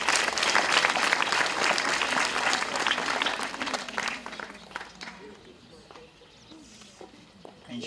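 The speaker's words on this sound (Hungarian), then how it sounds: "Már tapsolhatjuk Nyisztor Gábort" Audience applause at a school year-end ceremony, dense clapping for about five seconds that thins out and fades into scattered claps near the end.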